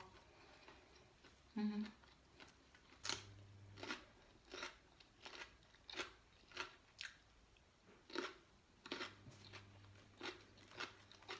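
Fresh, crisp green peas are bitten and chewed close up, giving a run of sharp crunchy snaps at an irregular pace, with someone speaking briefly between bites.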